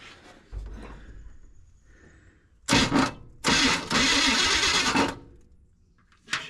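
A 1978 Chevy engine cranks over on a jump start in the woods, with two bursts of loud churning starter noise separated by a short pause, preceded by quieter handling sounds and a final brief crank.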